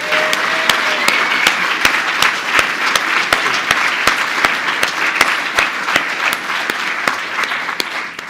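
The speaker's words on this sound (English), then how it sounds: "give a big round of applause thanking the tech team for all the work they've done" An audience at a clergy gathering applauds steadily, a dense sustained clapping that stays loud throughout without any speech.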